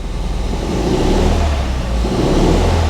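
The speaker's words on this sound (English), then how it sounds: "that's running on 3 cylinders, you can tell straight away" Ford Fiesta ST180 engine idling rough on three cylinders, a loud uneven low throb with a lumpy pulsing rhythm and slight revving, close up with no talk.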